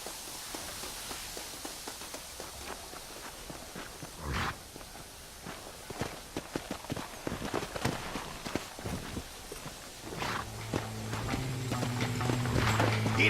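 Horse hooves clip-clop at a walking pace in the Red Dead Redemption 2 video game, steady footfalls under light ambient game sound, growing louder toward the end with a low hum.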